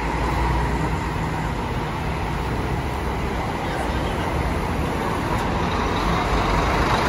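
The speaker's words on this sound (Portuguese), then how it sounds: "Carro aí no serviço executivo. Scania K360iB. É o carro da Planalto" Scania K360iB executive-service coach of the Planalto line idling at Porto Alegre bus station, a loud, steady engine rumble with broadband station hubbub throughout and no clear speech.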